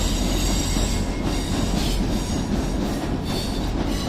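Transport for Wales train at Stockport station, loud rumbling wheels with rhythmic clickety-clack and some squealing as carriages roll close past, no talking.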